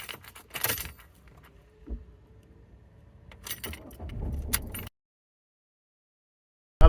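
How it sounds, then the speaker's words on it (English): Car keys jangle in a few bright metallic bursts up close, with handling rustles between them, before the sound cuts to silence. "I'm going to get my car keys"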